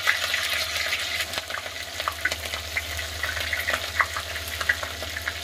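Whole garlic cloves and green chilies frying in hot oil for Bihari-style matar paneer, a steady close sizzle and crackle with small pops throughout and no voices.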